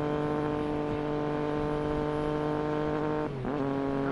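Triumph Daytona motorcycle engine holding a loud, steady high-revving drone during a quick ride, with a brief dip and shift in pitch near the end, then pulling hard again.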